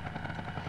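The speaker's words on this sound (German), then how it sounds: "Hubschrauber." A helicopter in the shooter video game Gunman Chronicles, its rotor beating in a dense, steady, fairly loud chop through the whole brief moment, with no other sound on top.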